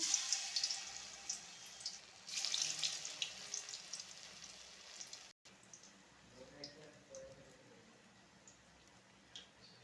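Cabbage pakodi frying in hot oil in a kadhai gives a faint, steady sizzling hiss that swells in two brief bursts early on, then settles low with a soft voice in the background.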